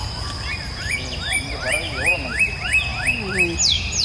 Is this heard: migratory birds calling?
yes